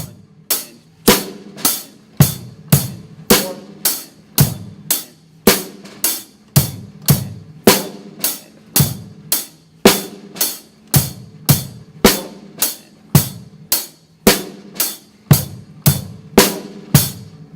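Drum kit playing a basic rock beat, with the bass drum on beats one and three and the snare on two and four, in a steady, even, crisp rhythm without any talking.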